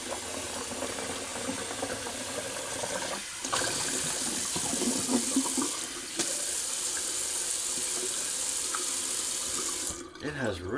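A tap runs steadily while a safety razor from a Brazilian Sandalwood kit is rinsed under it, a continuous close hiss of water with the flow changing briefly and cutting off near the end.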